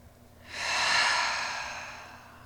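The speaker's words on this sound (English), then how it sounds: "taking one full breath at your own pace" A single slow, full breath during a trauma-informed yoga class, drawn and released audibly close up, swelling and then fading away gently.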